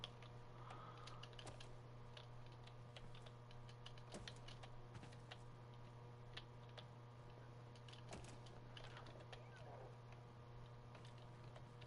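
Scattered keyboard key presses tap out a quick, uneven rhythm while Warframe is being played, quiet and close over a constant low hum.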